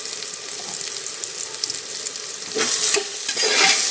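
Whole spices (bay leaf, cinnamon, cloves, black pepper and green cardamom) fry in hot oil with a bright, steady sizzle, rising louder near the end as a spoon stirs and scrapes the pan, no voices.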